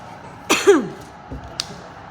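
A single sharp cough close to the mic, followed by a rough throat-clearing sound and a couple of small clicks, in a quiet room.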